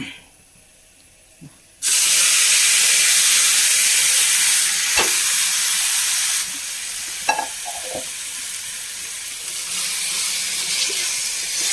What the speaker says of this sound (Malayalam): ഇനി ഇതിലേക്ക് നമുക്ക് കടച്ചാക്കി ഇട്ട് കൊടുക്കാം